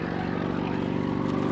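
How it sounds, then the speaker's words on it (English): A Bristol Sycamore (Bristol 171) British military helicopter flies at the 2018 Yeovilton airshow. Its rotor and engine make a loud, steady, throbbing drone that runs continuously from start to finish, with no voices. "The sole airworthy example of this pioneering British military helicopter anywhere in the world."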